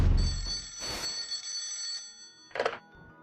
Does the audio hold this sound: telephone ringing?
yes